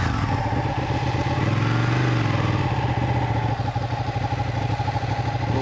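2016 Ducati Monster 1200 R being ridden on the road: a steady, throbbing engine note with a brief rise and fall in pitch midway, heard continuously and close up with no talking.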